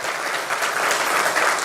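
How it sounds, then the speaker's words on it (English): An audience at a youth event claps in a loud, dense round of applause that holds steady and swells slightly for nearly two seconds. "a huge round of applause"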